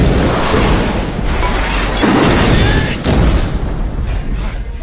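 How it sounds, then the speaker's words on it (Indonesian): A loud, rumbling explosion of a gas pipeline tunnel, with a heavy roar that swells and rolls on for several seconds, broad and booming, with no speech. "memutuskan meledakkan terowongan saluran pipa gas"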